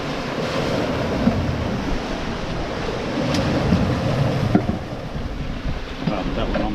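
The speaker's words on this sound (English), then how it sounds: "the waves are actually helping us now a little bit, rather than just hitting us on the side and making us wallow" Ocean waves rush and slosh against a singlehanded sailboat on a transatlantic passage from Bermuda to the Azores, mixed with steady wind noise and occasional knocks aboard.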